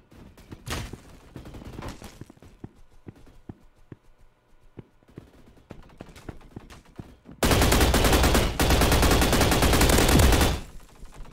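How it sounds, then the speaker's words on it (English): Gunfire in the Roblox shooter Energy Assault: scattered single shots early on, then quiet, then a loud, dense sustained burst of rapid fire lasting about three seconds before cutting off. "Oh, somebody's shooting me."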